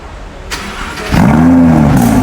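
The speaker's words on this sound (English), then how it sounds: "Now you will listen to a very big crackle of this car, the amazing sound" A Lamborghini Huracan Spyder engine cranks and bursts to life partway through, then settles into a loud, steady, throaty rumble close by.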